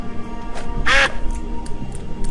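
Single comic duck quack from the adventure game Escape From Monkey Island, a short bright burst standing out clearly over quiet background game ambience.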